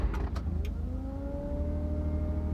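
A 2015 Smart ForTwo's engine starts with a few quick cranking clicks, then settles into a loud, close, steady idle with a rising whine through the rest.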